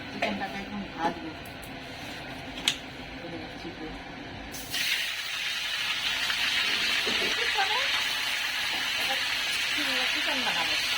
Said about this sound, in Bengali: চিকেনটাকে এখন ভাজবো।